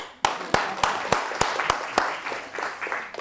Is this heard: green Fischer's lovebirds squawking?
no